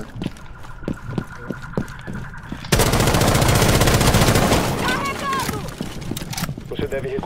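Rapid bursts of video game gunfire crackle continuously, dense and loud, with a voice talking briefly before and after the shooting.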